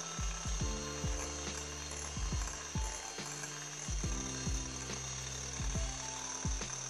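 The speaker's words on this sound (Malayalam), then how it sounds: "ഒരു 2-3 തവണ ഇട്ട് കൊടുത്ത് നമുക്ക് ബീറ്റ് ചെയ്തെടുക്കാം." Butter and powdered sugar being beaten for a nutty bubble cake, heard as a mechanical whir that repeatedly rises and drops in pitch in short bursts, fairly quiet and with no voices.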